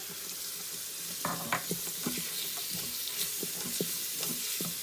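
Onions and spices sauté in an Instant Pot with garlic powder, onion powder and black pepper, giving a steady low sizzle broken by clicks and scrapes of stirring, fairly close and alone.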